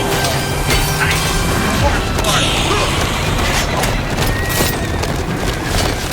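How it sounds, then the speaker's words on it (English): Horse hooves clip-clop at a gallop with neighing in a sword-fighting video game, a loud and steady game soundtrack with clashing effects, under people talking. "Damn, I'm slicing you and I'm riding a horse."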